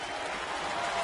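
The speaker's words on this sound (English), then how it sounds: "Crowd into it." Stadium crowd at a 2016 Tampa Bay Rays vs Toronto Blue Jays baseball game, with Snell pitching to Tulowitzki, sends up a steady, dense roar of cheering and clapping that swells slightly toward the end.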